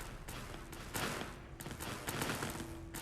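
A plasma weapon fires in Fallout: New Vegas in rapid, dense bursts of crackling shots that run almost continuously, heard faint and distant.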